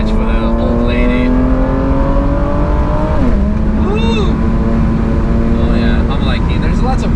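Mercedes E36 AMG W124 convertible downshifting on the move, the engine note sliding down in pitch and then blipping through a quick rev change, loud and close under heavy wind noise.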